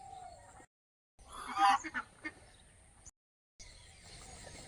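Ducks out on the water in the morning give a short cluster of quacks and honks at a moderate distance. Quiet open-air background with abrupt silent gaps surrounds the calls.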